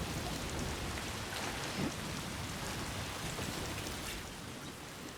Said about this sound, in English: I really don't want to go out in that rain